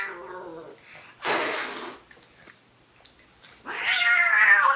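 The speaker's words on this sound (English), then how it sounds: "Kitty said, "Meow, meow,"" A cat meows loudly and close up, several drawn-out wavering cries separated by short pauses, the last one rising into an insistent, strained yowl.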